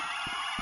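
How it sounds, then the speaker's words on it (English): Police car sirens wailing outside a home at night, a loud continuous high-pitched tone filling the short moment, with no talk over it. "Sounds like a lot of police cars outside our door."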